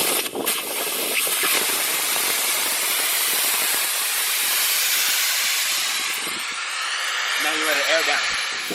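Air hisses steadily out of an open tire valve stem on a Ford Excursion, a loud, close, continuous rush of air that carries almost the whole clip before tapering off near the end.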